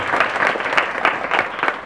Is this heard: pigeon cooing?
no